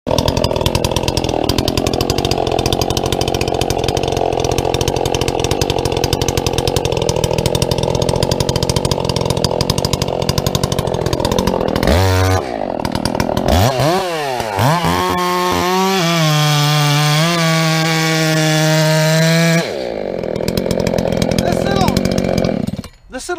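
A ported Echo 620 chainsaw with a 28-inch bar and full-house chain fells second-growth timber, roaring loud and close, bogging in the cut, then revving up and down in rising and falling sweeps while voices talk over it.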